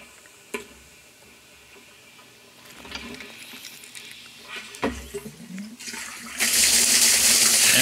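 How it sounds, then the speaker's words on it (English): Quiet room noise with a few clicks and knocks, then a water pump switches on and a steady rush of moving water swells up and runs loudly to the end. "And blammo, water is moving."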